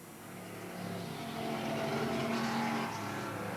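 Car number 67 races out of turn four at Willamette Speedway during a 1988 night race, its engine noise swelling into a rising, wavering drone as it approaches, somewhat distant, with no voices.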